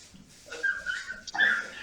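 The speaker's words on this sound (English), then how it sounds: "The dog's barking." A dog gives a few short yips and whimpering barks at moderate distance during a live music jam session, the calls rising and falling over roughly two seconds with no talk over them.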